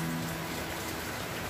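Steady rain falls on orchids with water running down from a gutter, a dense continuous hiss of drops with no voices.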